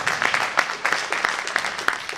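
A modest group at a library event claps, individual sharp claps standing out in a loose, uneven rhythm close by.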